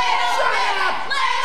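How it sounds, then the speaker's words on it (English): A wrestling arena crowd chants at a losing wrestler: a loud, dense wall of massed voices rising and falling throughout. "he's losing and getting a little bitch chant from the crowd"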